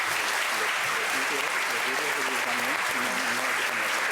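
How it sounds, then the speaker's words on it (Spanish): Audience applause fills a mental health and wellbeing conference hall in Spain, a dense, steady roar of clapping that runs loud and unbroken throughout. "Un fuerte aplauso."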